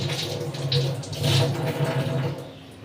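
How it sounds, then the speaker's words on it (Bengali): Tap water runs steadily into a kitchen sink as onions are rinsed under it, a continuous close splashing hiss with slight swells and no talk. "আর এই যে পেঁয়াজগুলোকে এখন একটুখানি ধোবো"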